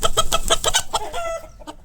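A Bhimavaram breed rooster, a heavy four-kilogram fighting cock, gives a rapid series of loud close clucks in an even rhythm, which then trail into a drawn-out call.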